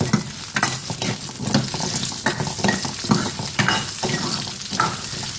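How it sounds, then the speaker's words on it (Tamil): Small onions sizzle in a hot pan as they are stirred, with a steady frying hiss broken by repeated scraping strokes. "நல்லா வதக்கி விட்டுறலாம்."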